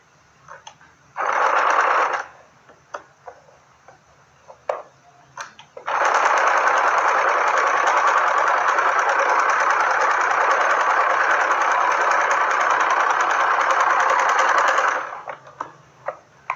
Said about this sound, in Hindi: ये पूरा ऊपर तक हम सिलाई लगाएंगे।